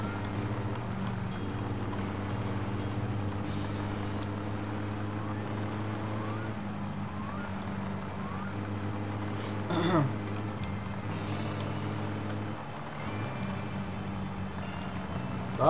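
A car driven in the game My Summer Car, a steady low engine drone holding an even pitch throughout, with a brief rising whoosh partway through.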